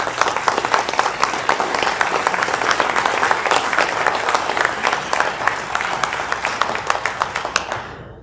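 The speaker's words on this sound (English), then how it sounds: "quite frankly, you deserve our applause." A crowd applauds steadily at a city council State of the City public event, dense overlapping claps sustained throughout before tapering off at the very end.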